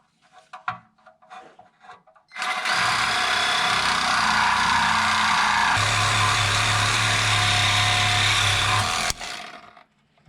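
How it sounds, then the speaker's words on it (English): Compact miniature Sawzall-style reciprocating hacksaw cutting steadily during a small-block Mopar header install on an A-body Barracuda, a loud continuous buzzing rasp lasting several seconds with a low motor drone joining midway, then stopping abruptly. "And I got my little miniature Sawzall hacksaw thing here. I'm gonna try that."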